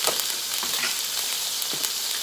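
Steak frying in a pan with garlic and thyme gives a loud, dense, continuous sizzle with small crackling pops, close up and with no talk.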